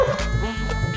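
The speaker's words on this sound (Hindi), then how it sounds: "कुत्ता भौंक रहा है" A dog barks at night in a new place, a few close, loud barks and yips over a steady background hum, with no one speaking.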